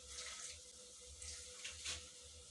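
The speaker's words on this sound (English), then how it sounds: "I stirred a little bit and then I add some water." Water is added to a pan of two fresh ripe tomatoes cooking in a little oil for baby weaning food, making a quiet, steady pouring rush with a couple of brief splashy surges.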